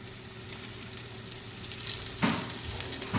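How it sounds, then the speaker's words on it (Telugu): KFC-style chicken pieces fry in a small amount of oil over a low flame, making a steady close sizzle that swells louder partway through, with faint crackles and pops. "నేను చాలా తక్కువ ఆయిల్లోనే ఫ్రై చేశానండి."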